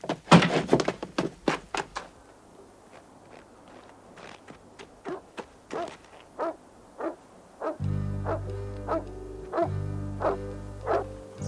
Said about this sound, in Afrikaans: Dis Josef se blaf daai.